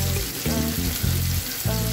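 Tomato and white squash (upo) sautéing in a pan with sautéed onion and garlic, a loud steady sizzle with bursts of crackling and stirring.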